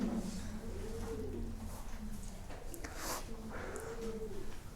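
A pigeon coos softly several times in a low, rolling rhythm over steady background hum and faint chirps.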